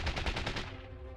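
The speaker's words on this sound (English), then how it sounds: "Gunfire explodes over the static of the radio" Burst of automatic gunfire crackling through radio static in a military scene, a rapid run of loud shots in the first half fading into a hissing tail.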